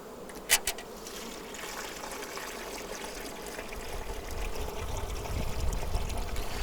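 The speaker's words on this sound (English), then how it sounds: "Going to fill my feeder." Sugar syrup poured into a bee feeder in a beehive during fall management, a steady liquid trickle and gurgle that grows louder, with a couple of sharp knocks at the start and bees buzzing nearby.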